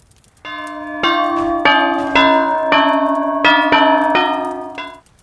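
An iron bell is struck repeatedly with a stick, about six ringing blows that overlap and sustain, loud and near with a slow uneven rhythm, in an abandoned junkyard.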